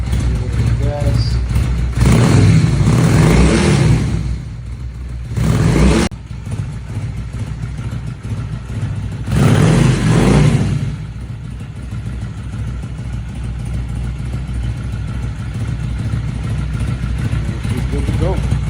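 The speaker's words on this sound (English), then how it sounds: "A little bit of gas." Honda Shadow 600 VLX motorcycle engine, a 2000 model, idling steadily after a radiator coolant flush, with several loud rev surges rising and falling over the idle, close by.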